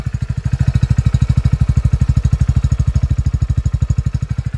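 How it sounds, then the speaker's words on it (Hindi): A 2023 Hero HF Deluxe motorcycle idling, its silencer exhaust giving a steady, rapid, loud thumping pulse recorded up close, with no voices. "ये इसके साइलेंसर की आवाज़ है"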